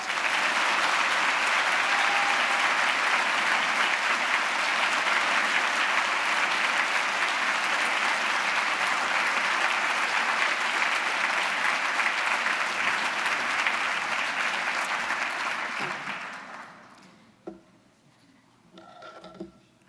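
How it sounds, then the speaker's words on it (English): A luncheon audience applauds to welcome a speaker, a dense, sustained clapping that holds steady for about fifteen seconds, then quickly fades into a quiet room with a few stray sounds. "please give a round of applause welcoming my dear friend Judith"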